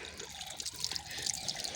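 Cold water running from the tap of a school water cooler, a steady close trickle and splash throughout with no talk over it.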